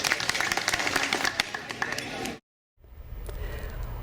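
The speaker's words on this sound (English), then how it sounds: "So please, a big round of applause for everyone." Applause from an audience honouring student volunteers at a volunteering event, a dense clapping wash that cuts off abruptly into silence before a low rumble and faint crowd noise return.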